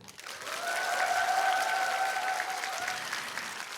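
A Daegu concert audience gives a singer-songwriter a steady, full round of applause at a KBS Daegu talk concert, rising quickly and holding evenly throughout.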